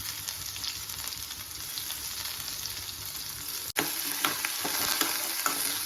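Shallots and curry leaves sizzle in hot coconut oil for a Kerala jackfruit seed masala curry. The hiss is loud, close and continuous, with a brief cut partway through before it resumes.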